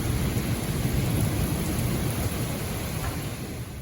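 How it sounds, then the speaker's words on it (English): A torrential rainstorm with thunder: a dense, loud, unbroken roar of pouring rain with low rumbling underneath and no voices. "there's a torrential rainstorm going on"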